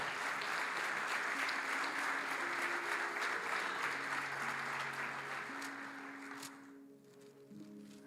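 A church congregation claps and applauds steadily as a dense, sustained wash of hand claps, fading away near the end while soft music continues beneath.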